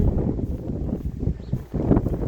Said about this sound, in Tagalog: Mahangin ngayong araw, pero may init.